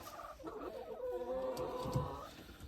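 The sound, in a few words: chickens clucking on the farm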